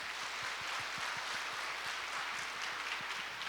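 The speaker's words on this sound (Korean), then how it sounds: "동산의 가족이 되신 분들께 마음을 담아 박수로 환영하도록" A church congregation at a Sunday morning service applauds to welcome new members, a soft, steady patter of many hands clapping at a moderate distance, with no talking over it.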